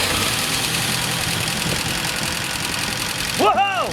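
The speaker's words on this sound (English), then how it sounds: "we got the 40-year-old engine running for the first time in 2 years." Forty-year-old Bedford CF van engine running for the first time in two years, a steady knocking idle close by, with a brief shout over it near the end.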